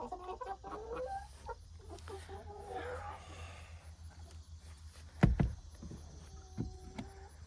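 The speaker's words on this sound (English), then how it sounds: "We got some more chickens in the coop" Chickens cluck and murmur close by in an enclosed space, with a few sharp knocks and scattered squawks over a low background hum.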